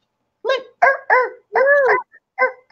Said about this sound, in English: You see that dog? That dog.